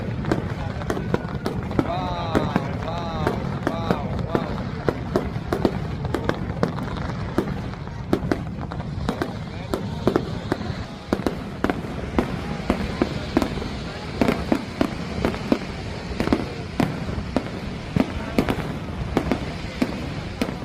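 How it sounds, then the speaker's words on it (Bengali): Fireworks burst over Niagara Falls during a fire show, popping and crackling continuously with many sharp bangs over a steady roar of crowd and water, while someone talks over them. "দেখতে পাচ্ছেন কত চমৎকার ফায়ার হচ্ছে।"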